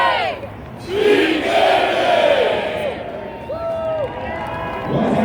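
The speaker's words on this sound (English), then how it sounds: "One of the great traditions at West Point, the rocket cheer." West Point cadets chant their traditional rocket cheer at the Army-Navy Game, a loud crowd of voices rising in a whistling, whooshing build and breaking into shouts, with cheering all around.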